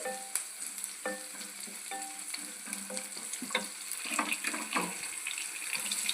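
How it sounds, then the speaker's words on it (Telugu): Tomato pieces frying and softening in a pan for a broad-bean curry, a steady close sizzle with irregular scraping and stirring clinks on top, growing slightly busier toward the end. "టమోటా ముక్కలు కూడా వేసేసాం కదా వీటిని బాగా మగ్గించుకుందాము"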